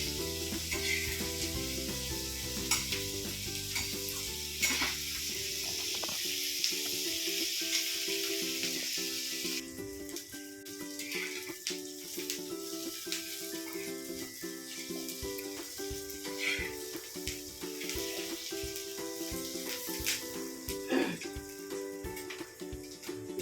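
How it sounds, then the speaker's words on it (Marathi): Chopped onion sautéing in a pan until reddish for Kolhapuri misal, giving a continuous hiss and sizzle with occasional soft stirring clinks and a low steady background hum beneath, no voices heard. "आपला कांदा लालसर रंगापर्यंत परतून घ्यायचा आहे."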